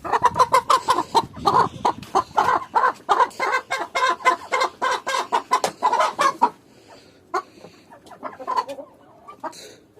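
Chickens clucking close by in a rapid, busy run of calls, which thins out after a few seconds into sparse, fainter clucks.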